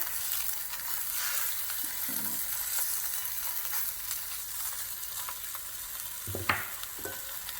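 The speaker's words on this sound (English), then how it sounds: "I'm gonna give it a flip, and then I'll cover it to get the cheese melty" Chiles rellenos burritos sizzle steadily on a low-flame griddle, with a couple of brief scraping clatters as they are flipped; frying hiss stays constant and moderately quiet throughout.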